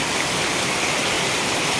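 Heavy rain falls steadily on a rainy day near calamansi plants, making a dense, unbroken hiss that stays even in loudness throughout, with no voices.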